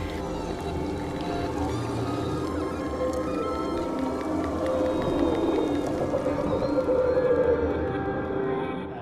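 Humpback whale vocalizations: drawn-out moaning calls and higher wavering cries that rise and fall over a steady, dense underwater wash, continuing without pause throughout and swelling slightly toward the end.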